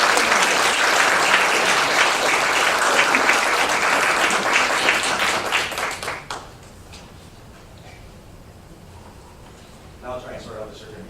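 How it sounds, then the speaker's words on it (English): Audience applause for volunteers at a volunteer reception, a loud sustained burst of many hands clapping that fades out about halfway through, leaving a quiet room with faint sounds. "So we could give them a great round of applause while I give them a hug."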